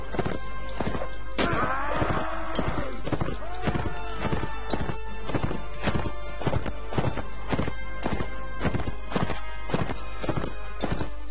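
Rhythmic horse hooves clip-clop at a steady trot in the video game Mount & Blade: Warband, loud and close, with a horse whinnying briefly near the start over a low droning background.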